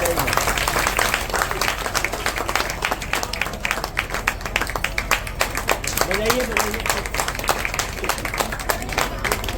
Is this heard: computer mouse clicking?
no